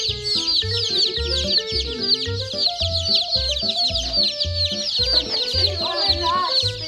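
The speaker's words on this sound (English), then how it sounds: "Look at all these little chickies." Many small chicks peeping in a dense, continuous high-pitched chorus close by, mixed with lower clucking chicken calls throughout.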